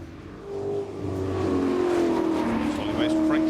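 A Rover SD1 European touring car accelerating hard up the Festival of Speed hillclimb, its engine note rising steadily and loudly as it pulls away, with commentary spoken over it.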